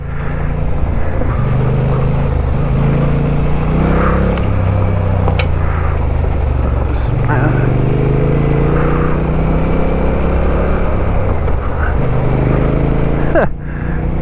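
A dirt motorcycle engine drones loud and close throughout while riding on a trail, its pitch climbing and dropping with each upshift, until it cuts off sharply near the end.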